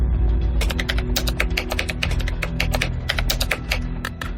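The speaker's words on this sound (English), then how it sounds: "That's Donahue typing his new password, twice, and the keylogger picks it up" Rapid typing on a computer keyboard as a new password is entered, with a steady run of crisp, close key clicks in an irregular rhythm over a low background hum.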